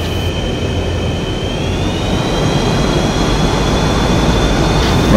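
An F/A-18E jet engine roars steadily during takeoff in a flight simulator, a loud continuous rumble with a rising whine that climbs in pitch.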